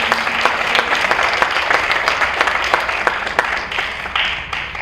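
Students and guests at a gifted-and-talented middle school convocation symposium give teachers a round of applause: a dense, lively wash of many hands clapping close by, sustained throughout with a few sharper individual claps standing out.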